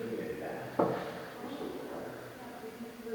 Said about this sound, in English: Someone freaking knocked on the door.